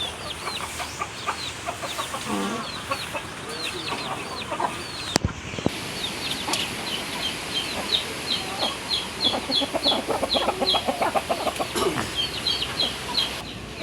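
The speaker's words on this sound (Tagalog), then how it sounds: "ito ng mga manok ko" Chickens cluck in quick, repeated bursts, several birds at once, at moderate distance over a busy outdoor background, with one sharp knock partway through.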